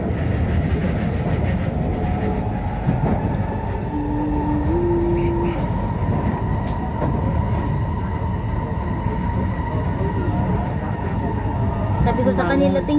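An MRT subway train riding between stations in Singapore, a loud constant rumble and hum inside the carriage with faint rattles and a brief tonal whine, people talking underneath.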